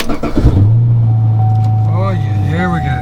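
A 5th-generation 2012 Chevrolet Camaro 2SS, fresh battery installed, cranks and fires after a brief spoken word, settling into a loud, steady, deep rumbling idle with a voice over it.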